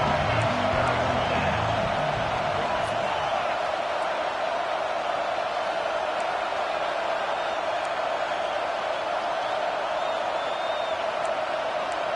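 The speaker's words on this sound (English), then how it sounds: "Big third down as the crowd gets behind this defense." A college football stadium crowd at a Penn State game gives a sustained, even roar behind the defense, a broad wash of distant cheering that runs unbroken throughout.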